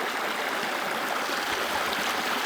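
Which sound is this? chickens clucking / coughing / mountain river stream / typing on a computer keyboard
mountain river stream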